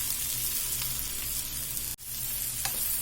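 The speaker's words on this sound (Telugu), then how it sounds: "ఇవన్నీ కొంచెం ఒక 2 నిమిషాలు ఫ్రై చేసుకున్నామండి" Spices with coriander powder fry in a pan in steady, close sizzling with faint stirring, while tomatoes, tamarind and coriander leaves are cooked for a chutney. A single brief scrape breaks the sizzle midway, and no one speaks.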